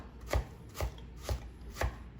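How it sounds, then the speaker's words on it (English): Cleaver chopping red onion on a board: four evenly spaced, solid chops about half a second apart, close and fairly quiet, over a soft background hiss. "I'm just gonna chop the red onion"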